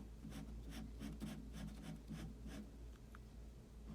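Marker or pencil coloring in a drawn Wonder Woman logo on paper, a steady close scratchy rubbing in quick repeated strokes, alone throughout.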